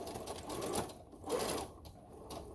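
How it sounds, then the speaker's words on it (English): Sewing machine back stitching along a dress edge, two short bursts of close mechanical whirring and needle chatter separated by brief pauses. "I'm going to back stitch."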